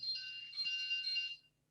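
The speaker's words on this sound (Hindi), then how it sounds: "just a minute phone call आ गई" A phone rings with an incoming call, giving a steady high electronic trill that lasts over a second and then stops. It is fairly faint and heard alone in a quiet room.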